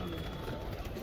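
Pigeons cooing softly after a flight, amid a dense, noisy background, with a voice speaking over the birds.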